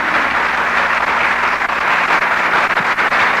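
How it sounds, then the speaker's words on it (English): Audience applause for the sponsors at the Binibining Pilipinas 2007 beauty pageant, a steady, dense roar of clapping hands from a large crowd that holds throughout. "Let's give our sponsors a round of applause"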